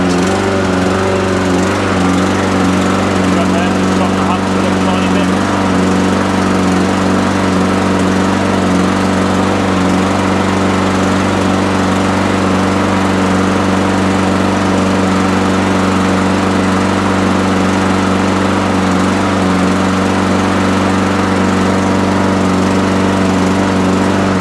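A lawn mower engine, freshly fitted with a new pull cord and low on fuel, roars continuously at full revs, loud and close, with a steady droning hum throughout.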